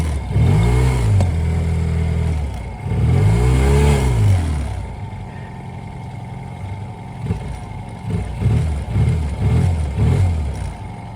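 An outboard motor on a Newport Seascape 9-foot dinghy, choke left on, revs loud and close in two swelling surges, then drops to a lumpy idle with rhythmic pulsing.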